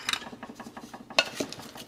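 Utensil scraping and clinking against a pot while jalapeños, carrots, oregano and salt are stirred together, a steady rhythmic series of close scrapes with a sharper clank near the end, no voices.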